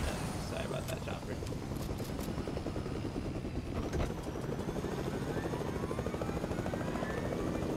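A helicopter in the Fortnite video game whirs continuously and loudly, its rotor chop steady throughout, with faint game effects layered underneath.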